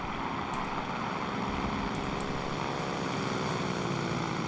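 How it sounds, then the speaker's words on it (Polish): Propeller airplanes droning steadily in a World War II-style vehicle combat video game, a continuous engine roar at constant loudness with a few brief faint high clicks, no talking. "I za samoloty mamy."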